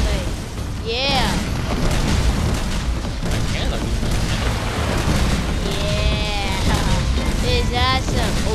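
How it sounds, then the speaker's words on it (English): Ship cannons firing in the Skylanders pirate seas game, booming blasts repeating amid busy game sound effects and music, loud and dense, with a voice talking over it. "I can fire the cannons too"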